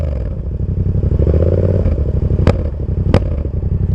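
Yamaha MT-07 motorcycle engine running close by with a steady throbbing idle that rises slightly, with two sharp clicks near the end and no voices.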